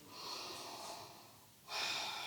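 Controlled breathing while holding a yoga chair pose: a soft, close inhale, a brief pause, then a stronger, audible breath.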